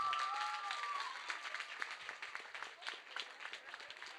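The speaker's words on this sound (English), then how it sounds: "Please, a special round of applause for them." A theatre audience applauds alumni after an English stage drama, fairly faint, even clapping from a crowd that tapers slightly as it continues.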